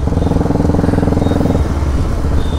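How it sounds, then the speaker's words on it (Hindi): A stage 1 ECU-remapped Bajaj NS 200 motorcycle holds a loud, close, throbbing engine note, then its pitch drops and the sound eases off as it passes. "ए रहा मेरा बाइक भाई"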